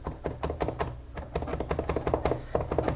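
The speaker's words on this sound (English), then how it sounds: "start with a gentle chopping motion just to get it broken down into smaller pieces." Kitchen knife chopping ingredients on a cutting board for chili con queso, a steady run of quick, close, moderately loud knocks that speed up slightly, with no talking.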